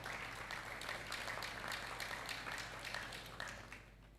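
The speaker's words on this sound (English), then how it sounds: "A round of applause for the Heinz family." Applause from a graduation ceremony audience, a dense, faint patter of many hands clapping that carries on steadily before thinning out toward the end.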